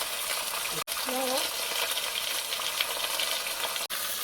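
Chicken thighs fry in oil in a covered pot, giving off a steady, dense sizzle that carries on with little change, broken by two brief dropouts and a faint tonal sound that may be a voice.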